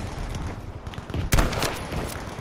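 Gunfire in the video game Battlefield V: a loud cluster of close shots cracks out mid-clip over dense, noisy battle ambience with rapid smaller bursts around it.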